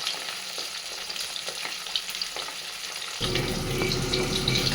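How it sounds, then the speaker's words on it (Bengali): Pieces of fasha fish coated in flour, salt and turmeric fry in hot oil with a close, steady sizzle. The crackle grows denser and louder partway through and continues without speech. "মাছ ভাজা আমার হয়ে গেছে"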